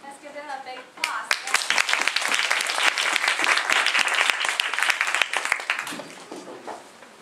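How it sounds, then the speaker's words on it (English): An audience at a speech night breaks into loud, sustained applause that builds quickly and holds for several seconds before tapering off, with a voice briefly heard at the start. "Let's give them a big applause."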